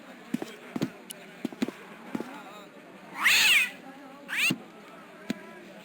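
An ugly brute of a cat in the Broken Sword adventure game meows twice, loud and drawn out, between scattered soft clicks and taps.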